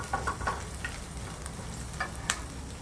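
Vegetables, cauliflower first, drop into hot oil in a wok and sizzle, with a few sharp crackles and a stirring clatter over a steady frying hiss, close and without talk.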